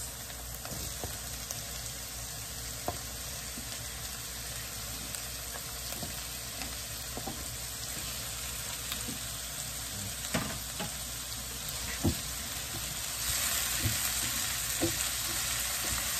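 Tomatoes frying in a pan for pinakbet give a continuous low sizzle and crackle, with scattered small pops and faint stirring clicks that grow slightly louder near the end, close and quiet with no talking.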